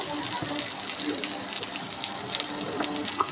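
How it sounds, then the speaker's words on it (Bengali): Onions with turmeric, chili and salt fry in a pan, giving a steady close sizzle with small popping crackles, and a voice faintly underneath. "এখন ভালোভাবে মশলাটাকে কষিয়ে নেব"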